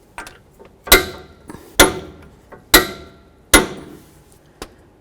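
Wrench being worked on a nut on a 2007–2014 Ford Edge front strut hub, four sharp metallic clicks or knocks roughly a second apart with brief ringing decay, close and loud, plus a few fainter taps.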